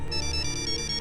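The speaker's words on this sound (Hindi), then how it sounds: "किसका फोन है? पापा का फोन है।" A phone rings with an electronic ringtone, a steady repeating tonal melody that fills the moment without any talking.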